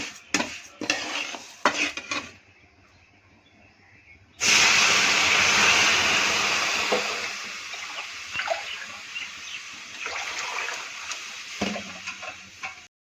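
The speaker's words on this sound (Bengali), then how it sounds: "এখন আমি এর মধ্যে জল ঢেলে দিব।" Water poured into a pan of fried kalai dal bursts into a loud, sustained hiss of steam after a few spoon clinks, then eases into a bubbling simmer with occasional stirring knocks.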